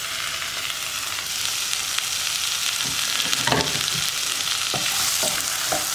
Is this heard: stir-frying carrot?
yes